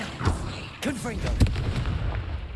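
Confringo blasting curse explosions in Hogwarts Legacy, a few sharp booming blasts with crackling tails mixed with spell whooshes and a voice shouting.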